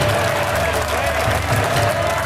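Loud, sustained applause and rumbling roars fill a parliamentary chamber, dense clapping from a large crowd holding steady throughout, with some voices mixed in.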